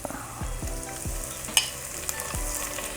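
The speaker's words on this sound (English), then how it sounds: "So now we're ready to throw in our seafood" Shrimp and mussels stir-fry in a pan for noodles, a soft, close sizzle running throughout with several low scraping stirs and a brief bright clink near the middle, no voices.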